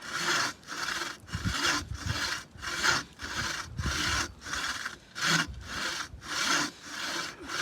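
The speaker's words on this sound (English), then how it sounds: "Size of this log is about the maximum diameter that our bow saws can cut through" A bow saw rasps through a log near the largest diameter it can cut, in steady back-and-forth strokes, about two per second, close and loud with no talking.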